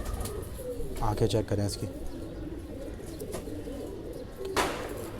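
Pigeons coo in a home loft with a Lal Bajrai-style bird among them, soft repeated coos mixed with someone talking close by.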